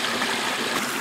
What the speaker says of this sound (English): I submerge the upstream end until water is flowing through the pipe.